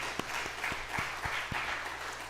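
A church congregation applauds during a Sunday sermon, with steady, evenly spaced claps close by over a low hum.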